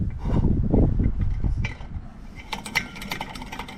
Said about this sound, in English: At first the pump wasn't pumping, but then it started.